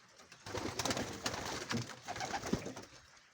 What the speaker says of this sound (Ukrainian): Покажу вам трохи голубів